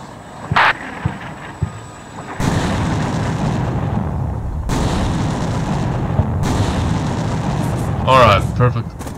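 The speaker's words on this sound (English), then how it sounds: "I'll chop some artillery there." Artillery fire in the war video game Combat Mission: Black Sea, with a few sharp shots followed by long, loud rumbling barrages and booms that fill the scene, and someone speaking briefly over them.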